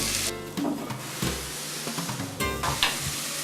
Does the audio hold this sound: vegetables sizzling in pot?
yes